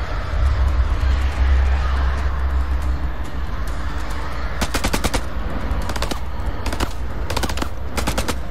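Gunfire in the video game House of Ashes: after a stretch of low rumbling ambience, several rapid automatic bursts rattle out loudly from about halfway through, separated by short pauses.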